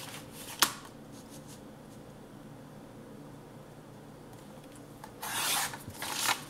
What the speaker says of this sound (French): je vais couper une diagonale à partir du pli ici au pli là